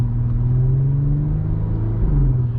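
A 2018 Audi SQ5 with an eight-speed automatic pulls hard under acceleration, a deep steady engine drone heard from inside the cabin, rising slightly in pitch, loud and continuous with no talking.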